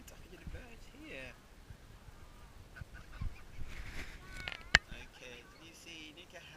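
Geese or ducks honk and call while being fed by a child, with scattered calls at middle distance over a murmuring outdoor background, a sharp click near the end, and people talking softly.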